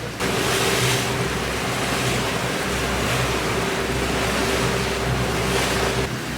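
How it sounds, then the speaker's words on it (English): Steady wind gusting over open water on the St. Lawrence River between Alexandria Bay, New York, and Gananoque, Ontario, with surf washing in, a constant roar and low rumble, no voices. "It's windy today, but nothing like it was yesterday."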